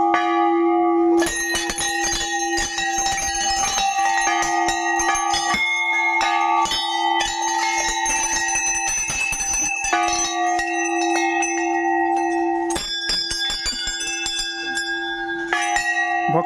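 A temple bell rings continuously, loud and close, with repeated overlapping metallic strikes and long ringing tones for the whole stretch, no talking.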